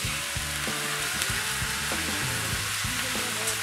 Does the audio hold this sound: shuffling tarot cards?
no